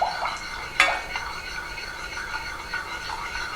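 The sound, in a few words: stirring white sauce, scraping the sides of the pan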